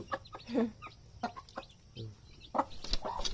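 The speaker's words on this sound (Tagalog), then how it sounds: "May epal na manok dito" Several short, scattered clucks from a chicken, close by, with brief pauses between them and a faint background hum.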